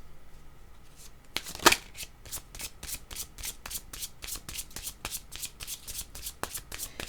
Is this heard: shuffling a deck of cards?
yes